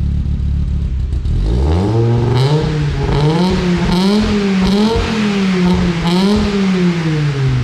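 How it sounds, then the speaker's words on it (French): An Audi S2's exhaust roars as the engine is revved hard, starting from idle then rising and falling in several loud, close throttle blips with a clattering edge. "il faut quand même leur faire écouter le bruit, bien l'échappement en donnant bien du gaz"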